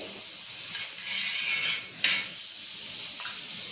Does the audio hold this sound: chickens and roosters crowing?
no